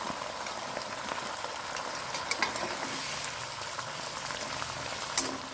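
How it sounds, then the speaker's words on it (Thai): Cabbage being stir-fried in a pan with pieces of fried pork belly, a steady close sizzle and crackle with occasional scraping of the spatula, no talking. "แล้วก็ใส่หมูสามชั้นที่เราทอดไว้นะครับผม ลงไปผัดด้วยกันเลยนะครับ"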